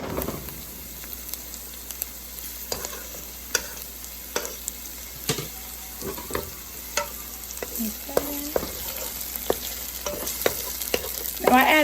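Tomato paste fries with softened onions in a pot for Ghanaian jollof rice, a constant low sizzle punctuated by sharp, irregular clicks and knocks of a spoon stirring against the pot.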